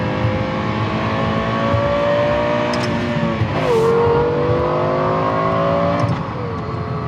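A Yamaha-developed car engine revs up toward 9,500 RPM with a sharp, high-pitched wail, rising steadily, dipping briefly at a shift, then climbing again, loud and close with no voices.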